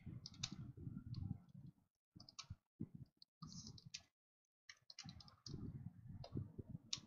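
Typing array-rotation code on a computer keyboard comes through as quick, close bursts of clicky keystrokes, broken by short pauses and one longer silent gap, with no speech over them.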